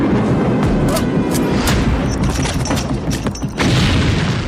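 Heavy booming blasts from Israeli air strikes bombing the army headquarters in Damascus, Syria, dense rumbling explosions with crackling bursts that overlap continuously and stay loud throughout.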